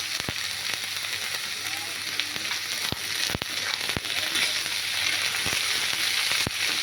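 Brinjal and pointed gourd fry in a pan with a loud, continuous sizzle, broken by several sharp clicks and knocks of stirring.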